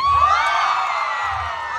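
A rally crowd at the Batangas provincial capitol cheers, whoops and shouts in one loud, sustained roar, with piercing high voices rising above the mass of the crowd.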